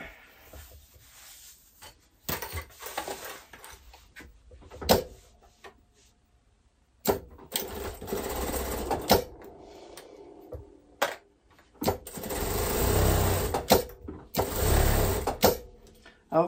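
A home sewing machine runs fast stitching straight seams, its mechanical whir coming in bursts of several seconds with pauses between, fairly close, with someone talking at times.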